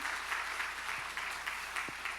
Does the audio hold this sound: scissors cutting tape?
no